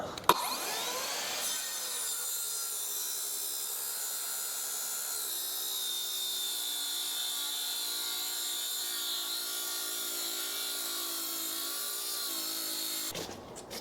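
A power saw cuts through timber during a house build, a steady whining, rasping cut running continuously at close range for most of the time, starting and ending abruptly, with no talk.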